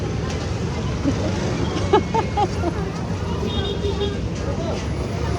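Steady road traffic noise on a rainy street, a constant engine rumble with a few faint horn-like tones, with people talking nearby.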